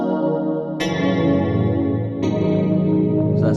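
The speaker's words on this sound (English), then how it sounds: "that will turn up the volume of the reverb" Bright, buzzy notes from a Korg Volca FM 2 digital FM synthesizer, reverb mix at maximum, change pitch a few times, each washed in heavy reverb that smears them into a continuous, echoing drone.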